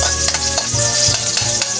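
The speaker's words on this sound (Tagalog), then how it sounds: "ilagay na po natin yung ating bawang na 5 piraso" Five garlic cloves, cut lengthwise, drop into hot oil for Filipino chicken tinola and sizzle loudly and close, with brief stirring scrapes over the continuous frying hiss.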